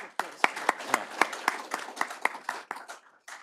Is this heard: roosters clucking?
no